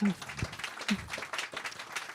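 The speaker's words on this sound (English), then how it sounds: "round of applause for Tess" An audience applauds author Tess Gerritsen at a book event, a modest spread of clapping that runs under a host's voice throughout.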